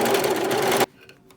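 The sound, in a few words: serger sewing a seam on stretch fabric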